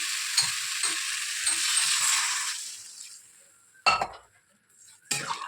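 A loud hiss erupts as water is poured into vegetable curry frying in a pan, sizzling strongly for about three seconds before fading, followed by a few sharp clinks of utensils against the pan.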